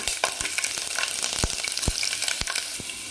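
Chilli, cut garlic, cloves and pepper sizzle in hot oil as a tempering for kadhi, a dense crackling fry with scattered pops and spoon taps, close and steady.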